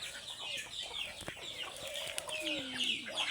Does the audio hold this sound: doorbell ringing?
no